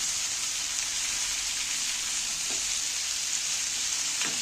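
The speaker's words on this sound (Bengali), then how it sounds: "আলুগুলো দিয়ে দিন এর মধ্যে, কাটা টমেটোগুলো তুলে দিন। এইবার নাড়তে থাকবো।" Potatoes and chopped tomatoes fry over a low gas flame, producing a steady, even sizzle like light rain, with a couple of faint stirring scrapes near the middle and the end.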